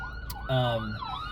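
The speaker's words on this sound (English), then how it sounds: "oh, there's an ambulance behind me" An ambulance siren wails behind a speaker outdoors, its rising and falling tone sweeping past at moderate distance for a second or so, with low traffic rumble beneath.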